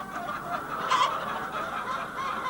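A hen clucks and squawks in short, close, fairly loud bursts, with a sharper cry near the middle, over steady background noise and no talking.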